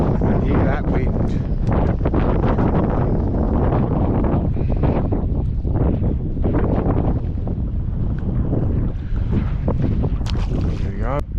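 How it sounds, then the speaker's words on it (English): Strong wind roars continuously across a fishing boat out on the Tamar estuary, buffeting the microphone loudly for the whole stretch, with no pause or letup. "And hear that wind."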